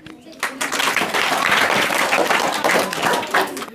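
Children and adults at an Independence Day school celebration clap steadily after a child's poem recital, dense applause filling the room with a few voices mixed in.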